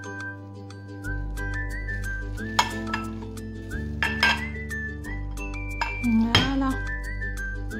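A utensil clinks and scrapes against a bowl as crêpe batter with flour and cocoa is mixed, giving irregular close taps and knocks over background hum, with a brief spoken word.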